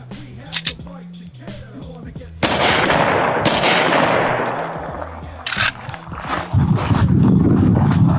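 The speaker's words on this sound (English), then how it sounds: "Check out the gunshot as well." A single loud gunshot fired at level 3A soft body armor cracks sharply and then rolls away in a long fading echo, preceded and followed by scattered rustling and knocking handling noises.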